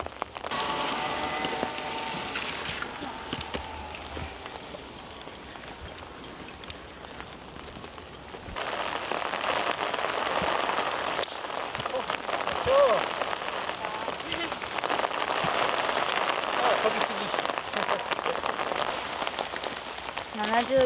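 Rain patters steadily across an open golf course, a dense hiss of drops that grows heavier partway through and continues throughout, with faint voices now and then underneath.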